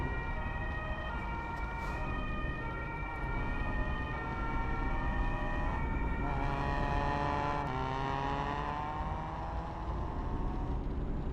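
A police car siren in Euro Truck Simulator 2, loud and continuous with wailing tones sliding up and down over a steady engine and road drone, with no talk.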